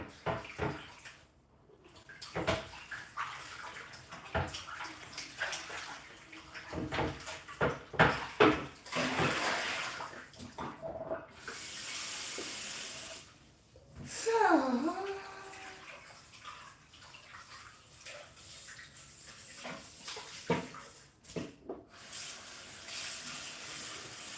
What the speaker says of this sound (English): I rinse out my pot because I want to reuse this one.